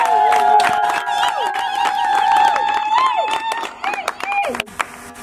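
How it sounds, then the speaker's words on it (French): Wedding guests in a church clap and cheer, with bursts of hand claps mixed into loud, sustained ululating and shouting voices that fade toward the end. "On applaudit, on applaudit."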